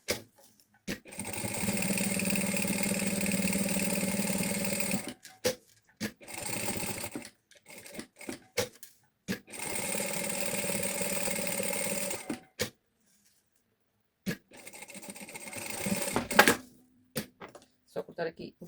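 A sewing machine topstitches the seam of a mother-and-daughter bag, running in four steady mechanical bursts separated by short pauses, close and clear.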